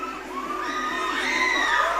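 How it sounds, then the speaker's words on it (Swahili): A church congregation cheers and claps, a steady rising swell of voices and whoops filling the room, loud and close throughout. "Makofi mazuri, makofi mazuri."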